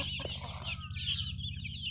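Native backyard chickens cluck close by in a steady, continuous flock chatter, with a low rhythmic hum beneath and no talking.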